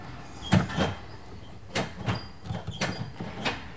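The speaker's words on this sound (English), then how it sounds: "Listen to how bad this shifter sounds." A Porsche gear shifter on a rally build rattles and clunks as it is worked, giving a handful of sharp, close knocks and clacks spaced irregularly against a quiet cabin background.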